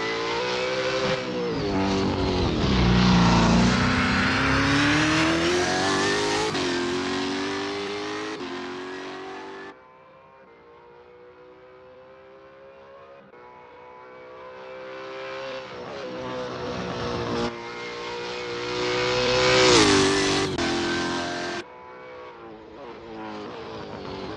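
A V8 Supercar Nissan Altima L33 engine roars in Assetto Corsa, loud and close, rising and falling through repeated revving and gear changes with a dip in intensity midway before climbing to a high scream again.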